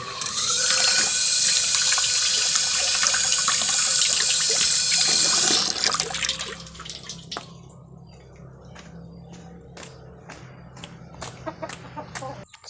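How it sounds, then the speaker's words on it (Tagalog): Water pours steadily from a tap for hands being washed outdoors after handling chili peppers, a loud hissing stream that stops partway, leaving scattered clicks, knocks and a rooster or hens clucking nearby. "Maghugas tayo ng kamay kasi ano."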